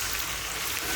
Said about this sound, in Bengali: পেঁয়াজ ভাজা হয়ে গেছে, পরিমাণ মতো পানি দিলাম।